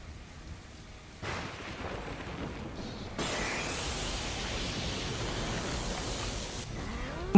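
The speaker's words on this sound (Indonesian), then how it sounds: "Tidak lama hujan turun membasahi tubuh Lubu kecil" Heavy rain pours steadily and grows louder in stages, with rumbling thunder mixed in; a dense, enveloping storm with no voices.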